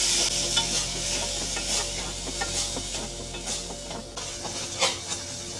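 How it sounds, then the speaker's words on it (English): Tomato is stirred into onions frying in a pan for chicken kofta. A spoon scrapes in repeated strokes over a steady close sizzle. "I'm going to add this tomato now in my onion and stir it well"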